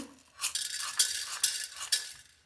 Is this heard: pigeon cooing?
no